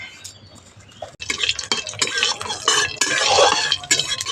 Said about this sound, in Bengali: তেলের মধ্যে একটা কাঁচা লঙ্কা দিলাম ফাটিয়ে, আর দিচ্ছি 5 ফোড়ন